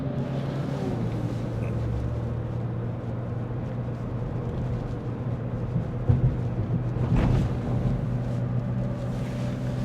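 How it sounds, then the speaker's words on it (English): Trucks and road traffic passing along a road in Parrish, Florida, a steady broad rumble with wind noise and a swelling pass around the middle, heard from the roadside without talk. "So there are trucks all day long coming up and down this way."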